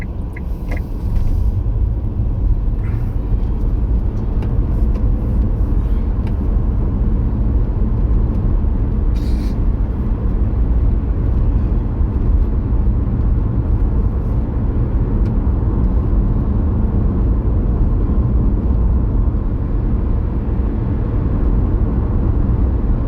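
A car drives along a lane with a loud, steady low engine and road rumble throughout, close and continuous, with a brief higher crackle early on.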